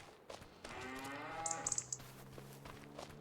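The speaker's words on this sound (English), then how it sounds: "Look at that, the cows have grown." A herd of cattle moos, with several drawn-out lowing calls overlapping at moderate distance in an open outdoor setting, without talk.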